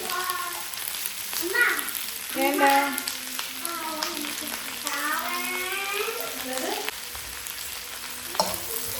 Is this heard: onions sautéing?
yes